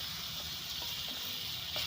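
Chicken legs fry in a pan, giving a steady hiss and sizzle with faint scraping and stirring knocks, moderately close and without any talking.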